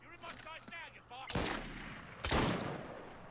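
Two loud gunshot blasts in an assassin-themed video game, the first about a second and a half in and the second near the end, each with a long decaying tail, following a stretch of broken talk.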